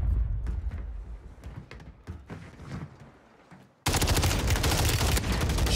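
Rapid automatic gunfire in Warzone while shooting through railings. Faster bursts are followed by a brief lull, then a loud, dense stream of shots at close range.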